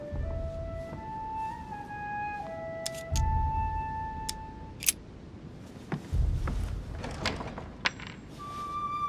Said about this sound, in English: A metallic sound, like a key falling to the floor.